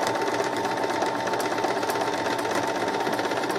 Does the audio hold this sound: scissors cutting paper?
no